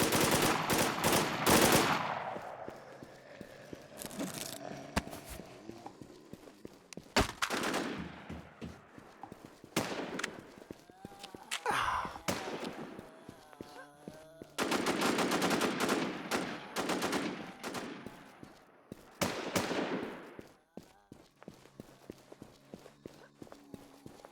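SIG rifle fire in the shooter game Infestation The NewZ, coming in loud rapid bursts that empty the magazine, with short pauses, footsteps between the volleys and a player talking now and then.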